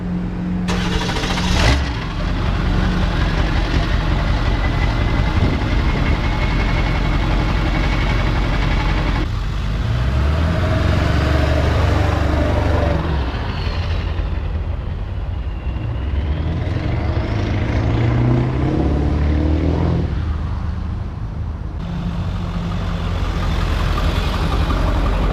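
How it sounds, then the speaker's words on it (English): Ford Powerstroke diesel pickup with a straight-piped 4-inch exhaust and 10-inch tip, heard close and loud. It starts with a burst, then grumbles, idles and repeatedly rises and falls as it revs, with no talking. "my truck has a 4-inch diamond eye exhaust with a 10-inch exhaust tip, and it sounds amazing"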